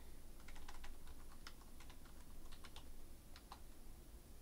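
Typing on a computer keyboard, a quick irregular patter of soft key clicks over a steady background hiss, with no voices.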